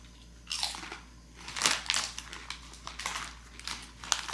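Potato chips crunched and chewed up close, several loud irregular bites and crackly chewing bursts over about four seconds, with no talking.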